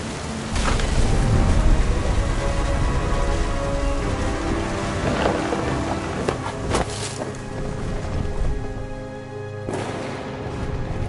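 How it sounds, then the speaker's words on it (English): Heavy rain pours steadily in the video game What Remains of Edith Finch, with several loud thunder cracks and rumbles breaking through the downpour over about eleven seconds. "The thunder sounded much too close and full of angry power."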